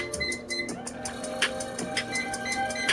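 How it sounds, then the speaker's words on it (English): A noisy replacement incline motor on a Life Fitness 97Ti treadmill runs with a steady mechanical hum and a repeating, printer-like ticking clatter at close range, heard alone without talk. "This motor's a little noisy"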